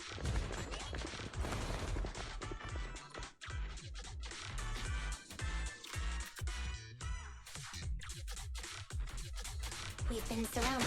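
Gunfire in Zenless Zone Zero, sharp clustered shots and scraping impacts crowding a loud combat mix, with character voices speaking between and over the bursts.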